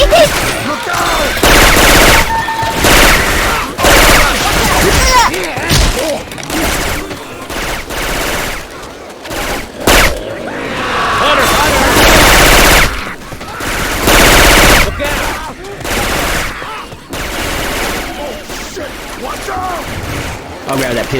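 Weapon sound effects from Syphon Filter, swapped into the zombie shooter game Left 4 Dead 2, play as loud, nearly continuous automatic gunfire with brief gaps. Voices talk over the shooting.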